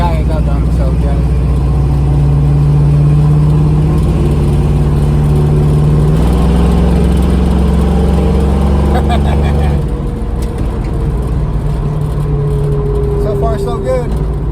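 An old car's engine hums steadily while it is driven, a loud low drone with a shift in pitch partway through and a slight dip in level near the end, heard from inside the cabin.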